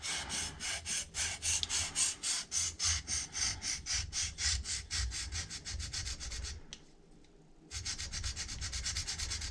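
A knife is sharpened on a DMT Magna Guide diamond plate with rhythmic back-and-forth rasping strokes, close and steady, broken by a short pause before the scraping resumes.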